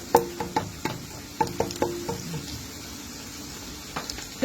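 Garlic and onion sauté in a pan as the base of a budget white pasta sauce, giving a soft, steady sizzle broken by a series of sharp utensil clinks and scrapes, fairly close and quiet.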